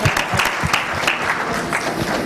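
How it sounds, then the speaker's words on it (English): Conference audience applauds after a presentation at an e-governance track session, a dense, even wash of clapping from many hands at moderate distance. "please join me in a round of applause"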